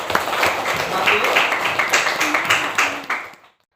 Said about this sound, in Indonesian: Kita beri aplaus kelompok 1